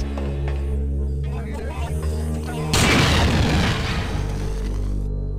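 An explosion in System Shock 2 bursts suddenly over a droning, tonal game hum, then its roar decays into crackling rumble over a few seconds.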